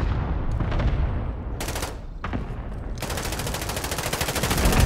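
Automatic gunfire from a Call of Duty Modern Warfare Warzone match, with rapid bursts of shots, short pauses, and a long sustained volley near the end, loud and close over dense game ambience.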